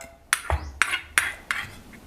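Five sharp clacks of a stone mortar and utensil ring out at uneven intervals as the mortar is handled and rinsed with water, close up with no talking.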